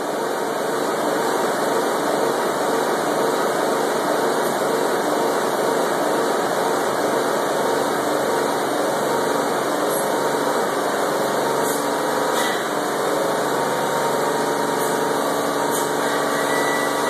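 A Chrysler Pacifica 3.5 engine with a blown head gasket runs with a constant, loud, dense mechanical drone and a few faint clicks, with no clear rise and fall in pitch.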